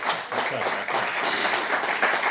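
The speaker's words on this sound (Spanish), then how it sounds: "Vamos a darle un aplauso a Alejandro" A conference audience at the Ágora sessions applauds to welcome a speaker, a soft, even patter of many hands lasting a couple of seconds, fairly distant and without talk.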